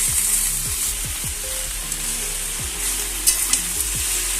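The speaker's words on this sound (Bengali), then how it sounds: "আমি এবারে পালং শাকগুলো দিয়ে দিচ্ছি।" Spinach leaves hit a hot pan and sizzle steadily while a utensil stirs them, with soft repeated scraping strokes over the continuous hiss, close up and with no voices.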